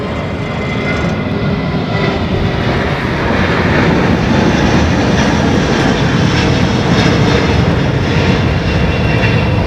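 A jet airliner takes off from Heathrow Airport, its engines a loud, steady broadband roar that holds strong and close throughout with no voices.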